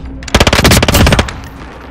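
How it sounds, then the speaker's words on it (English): Rapid automatic gunfire in Call of Duty Modern Warfare, a loud sustained burst of about one second that stops abruptly, with no talk over it. "Ah, they're shooting at me."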